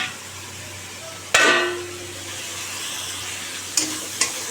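Fish frying in a pan with onion, green chili, tomato, salt and turmeric, a low steady sizzle broken by a sharp utensil clank and a few later scrapes and taps of stirring.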